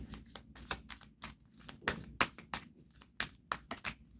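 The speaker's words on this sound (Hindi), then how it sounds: "One last shuffle." A deck of tarot cards being shuffled by hand close up, rapid riffling bursts and soft taps in an irregular rhythm, quiet and alone with no talk.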